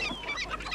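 Short burst of chicken clucking, a few quick squawky notes close by.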